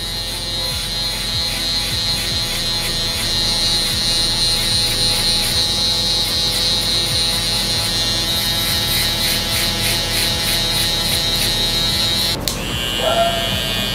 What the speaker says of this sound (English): we're gonna just rub the trimmer into that bald stubble.